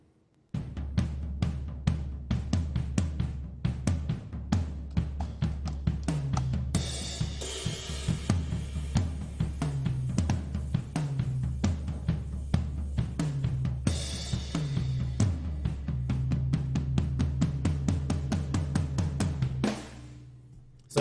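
Stereo drum overhead tracks, left and right, soloed in a mix: dense, steady cymbal and hi-hat hits with snare and kick bleed, a driving rhythmic pattern for about twenty seconds, close and full, with no talk.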